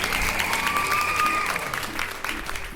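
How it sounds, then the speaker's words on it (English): Audience applause with a few cheers from a crowd at a talk, steady dense clapping throughout with a voice or two rising over it. "Come on, you can clap."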